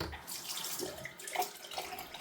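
Tap water runs steadily into a sink during a wet shave with soap and a brush, a soft continuous splashing hiss heard close up with no talking.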